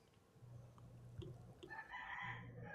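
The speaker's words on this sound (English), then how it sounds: "You have rooster background noise" Roosters crow from a distance on a rural property in Fern Acres on Hawaii's east side, a couple of overlapping cock-a-doodle-doo calls rising over steady outdoor background noise.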